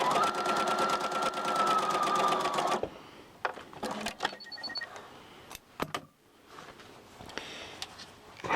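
A sewing machine top-stitches fabric for a ruffle dress in a fast, steady mechanical run for nearly three seconds, then stops, leaving scattered clicks and handling noises of the fabric being moved.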